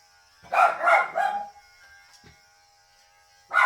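A dog gives two or three quick barks close by, then a pause and another bark, over a faint steady electrical hum.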